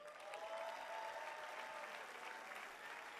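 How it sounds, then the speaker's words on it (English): Applause for fourteen contestants at the Mr. and Ms. International 2014 pageant, a steady wash of clapping from a crowd that holds evenly throughout, moderately distant and fairly quiet, with no talk over it. "Give them a round of applause."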